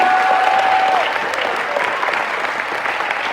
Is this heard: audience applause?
yes